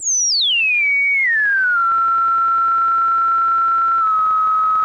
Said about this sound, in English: It sounds like a 2007 digital synth